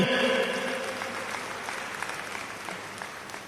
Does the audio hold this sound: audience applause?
yes